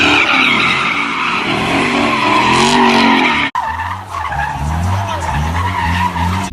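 A Dodge Scat Pack with a Hemi spins its tires in a loud, continuous screech that runs without a break; the engine roars hard underneath, with a brief cut partway before the revving and squealing resume.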